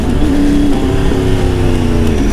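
A new motorcycle engine revs loudly up close, a continuous throaty drone with steady tonal layers that rise and fall slightly, without any talking.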